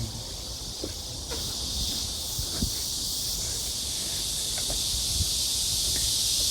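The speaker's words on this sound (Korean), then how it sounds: "여기도 매미들" Cicadas shrill loudly in a steady, unbroken drone that fills the scene from start to finish, with faint scattered taps and rustles underneath.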